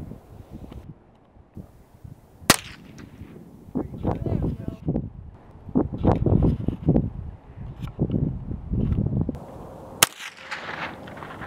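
Two sharp rifle shots crack out at targets on an outdoor shooting range, one early and one near the end, with wind noise and people talking between them.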